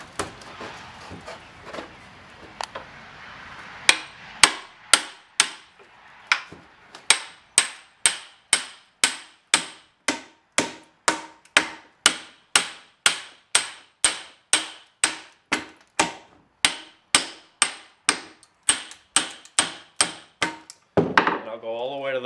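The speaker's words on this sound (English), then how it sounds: "get it as square as possible with the hatchet" A hatchet strikes and splits wood, roughing out a square oxen stick about an inch and a half thick: a long steady series of sharp, close chopping blows, roughly one or two a second, with a few scattered knocks before the rhythm settles.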